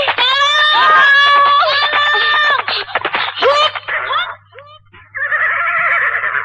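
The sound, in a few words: people screaming for help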